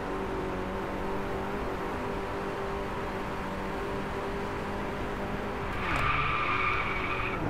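Car drifting in the racing game Driveclub, a steady engine drone with continuous tire skid running throughout, then a sharper high tire squeal near the end, loud and alone with no talk.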